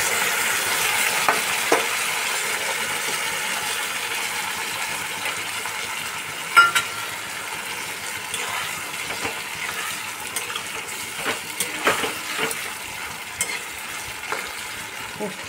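Poppy seed paste, seasoned with ground black pepper, fries in a pan for a mixed vegetable and paneer dish, giving a steady sizzle broken by scattered scraping clicks of a stirring spoon, with no talking.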